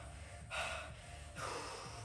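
After a street workout front lever set, someone takes two heavy, gasping breaths, each a loud rushing inhale or exhale about a second apart, close over faint background hum.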